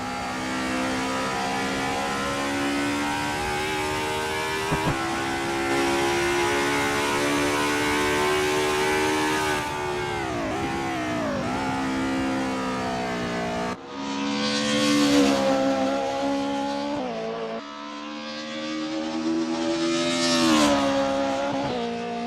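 A race car engine on track in Assetto Corsa drones loud and close in high gear, dips as it shifts down, then revs back up through several gear changes.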